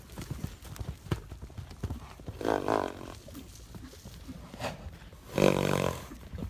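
A horse on a farm lets out two forceful, breathy snorts a few seconds apart, with soft hoof and movement noises around them at close range.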